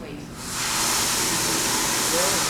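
Surf effect on a museum instrument: a broad, steady wash of hissing noise that swells in after a quiet start and holds evenly like crashing waves, with faint talk underneath.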